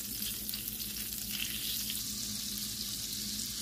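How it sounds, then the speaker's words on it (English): Half a stick of butter melts in a pan with a continuous, quiet, steady sizzle and crackle, close up and alone without any voices. "Start off by adding half a stick of butter to my pan. I am just going to let this melt."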